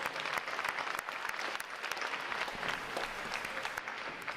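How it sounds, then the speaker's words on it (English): A crowd at a U.S. Navy boot camp graduation applauds steadily, a dense sustained wash of many hands clapping without pause. "how about another round of applause for our unit and individual award recipients?"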